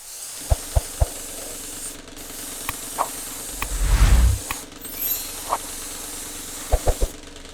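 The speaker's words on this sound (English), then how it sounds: "So I will use this one with airbrush to cover all the base." An airbrush sprays light brown paint over the base of a Mandalorian model, a soft hiss swelling and fading in short bursts between sharp clicks and taps from handling the tool.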